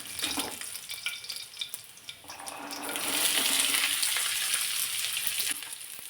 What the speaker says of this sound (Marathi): तर थोडासा लालसर कलर होईपर्यंत लसूण परतून घेतला